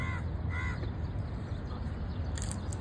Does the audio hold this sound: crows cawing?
yes